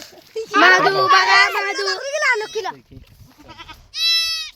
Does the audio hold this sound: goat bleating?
yes